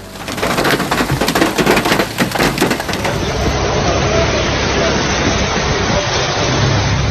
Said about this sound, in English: The pounding on metal roofs was deafening